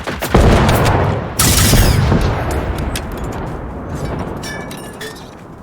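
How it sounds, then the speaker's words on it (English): Enemy gunfire in the video game Generation Zero, loud and close, with heavy booming shots and a rolling, explosive roar that slowly fades into a rumbling tail. "Why is he still shooting?"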